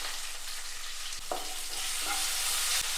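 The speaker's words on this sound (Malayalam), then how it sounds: "എല്ലാം കൂടി ഒന്ന് ഇളക്കി കൊടുക്കാം." Tomatoes, salt and curry leaves frying in a pan, a steady loud sizzle throughout with a few sharp spoon scrapes and knocks as the mixture is stirred.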